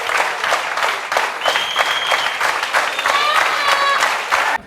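An audience claps in steady, dense applause at an indoor gathering, loud and sustained for several seconds, with scattered voices and a few whistle-like tones mixed in.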